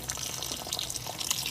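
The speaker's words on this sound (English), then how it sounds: "So I'm going to drain the tank" Water drains from a tank in a steady, trickling, splashing flow with small drips. It sounds close and is fairly quiet, with no talking.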